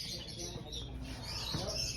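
Cockatoo squawking inside a parrot pet shop, a harsh raspy call rising over a steady chorus of other birds chirping and cooing nearby, with no clear pause in the busy background.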